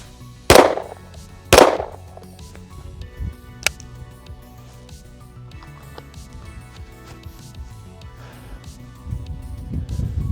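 Two sharp, loud Glock pistol shots ring out about a second apart at a shooting range, followed by a fainter crack and then quiet range ambience.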